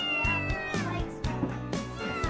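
A house cat meows repeatedly indoors, several clear, fairly loud calls in an uneven rhythm, close to the listener with no talk over them.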